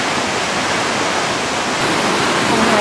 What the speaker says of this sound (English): the waterfall is up there